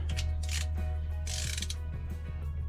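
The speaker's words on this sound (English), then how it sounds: "I have these Allen wrenches that are compatible with the socket wrench" A socket wrench fitted with an Allen wrench bit ratchets in short bursts of rapid clicking, close and fairly quiet, with brief metallic handling between strokes, during boat prep work.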